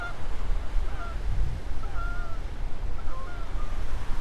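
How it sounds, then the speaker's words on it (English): Canada geese honk repeatedly in loose overlapping calls as they fly over a dam spillway, moderately distant, above a steady low rush of water. "Come some Canadian geese flying right over right now."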